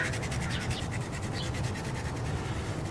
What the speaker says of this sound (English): This is the drywall sandpaper that I usually use